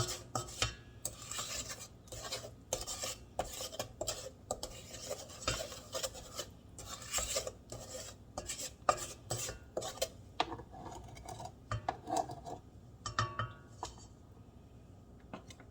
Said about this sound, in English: Go ahead and scrape down my sides again